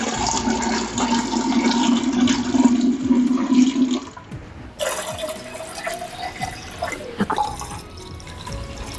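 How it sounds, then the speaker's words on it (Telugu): Water is poured into glass bottles of salt, first as a steady gurgling stream, then a pause and a thinner, rising splashing fill, close and clear with no talk. "ఇప్పుడు నీళ్ళని అయితే పోస్తున్నాము ఈ గాజు సీసాలకి."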